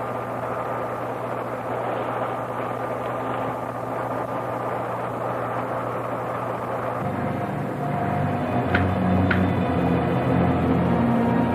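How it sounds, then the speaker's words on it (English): Sustained low roar of a rocket blast-off effect from a 1968 science-fiction film, a steady dense rumble that thickens and grows louder about two thirds through, with brief high whistling tones near the end. "Refueling completed. Ready for blast-off."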